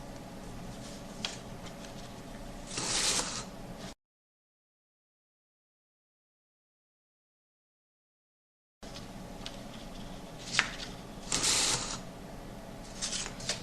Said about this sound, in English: Now we will feed 2 more sheets.